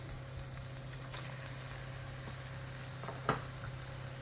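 Half a kilo of squid, cleaned with turmeric and salt, goes into a hot pan for squid roast. A soft, steady sizzle hisses throughout, with one sharp clink of a utensil near the end.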